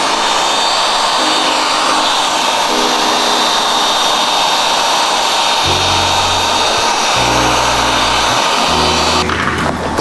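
Heat gun post-heating car wrap vinyl on a panel: a loud, steady blowing roar throughout, with lower motor tones shifting in the second half and a brief rattle at the end.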